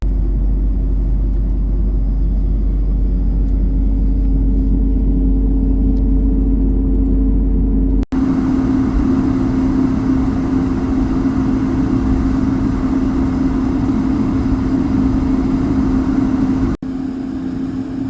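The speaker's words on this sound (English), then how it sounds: "enjoy the beautiful sound of A220 engines on maximum thrust" Airbus A220-300 engines on a Swiss Air Lines jet at Zürich run a continuous, loud, heavy rumble with a steady low drone as the aircraft heads into its maximum-thrust takeoff, heard from inside the cabin with no voices.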